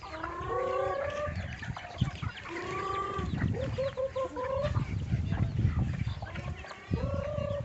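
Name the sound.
free-range native chickens clucking on a Cebu farm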